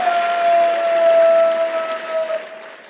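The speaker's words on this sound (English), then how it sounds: "Give a round of applause." Crowd applause fills a large political conference hall at CPAC 2025, a steady broad wash of clapping lasting throughout, with a sustained electronic tone ringing above it.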